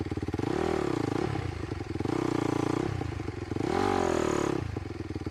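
A motocross motorcycle revs in three rising and falling bursts while the rear brake is held, a close, loud engine roar with rattling, clattering texture between pulls.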